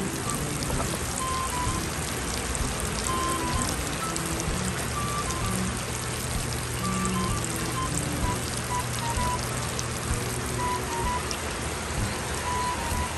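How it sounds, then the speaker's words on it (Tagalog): Rain falls steadily outside, a continuous even patter and hiss at moderate level, with faint tonal sounds and a low hum running underneath. "umuulan na naman po ulit sa labas"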